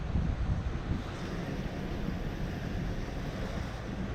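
Blacklick Creek in Cambria County, Pennsylvania, swollen and flooded after the remnants of Hurricane Ida, gives a steady low rushing roar. Wind buffets the microphone throughout.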